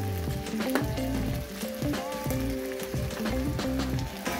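Ginger sizzles and fries in a hot pan for Korean-style noodles, a steady crackling hiss close by, with scattered pops and clinks of stirring.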